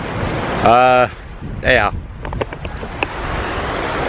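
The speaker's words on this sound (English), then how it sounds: "It is a bit windy." Wind buffets the microphone in a steady rumble on a beach in Pattaya, Thailand, with faint surf behind it; a couple of brief spoken words cut through near the start.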